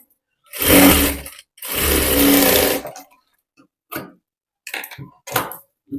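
A tailoring sewing machine stitching blouse fabric at half-inch seam spacing: two sustained whirring runs of rapid stitching, then several short bursts and stops, close and loud with no talk.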